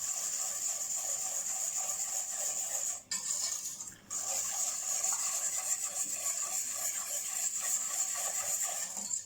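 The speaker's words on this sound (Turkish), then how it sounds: "Ocağın altını açmadan şöyle güzel bir şekilde karıştıracağız." A steady scraping, rubbing sound of a spoon stirring supangle chocolate pudding in a pot on an unlit stove, continuous with two brief pauses, close and moderately loud.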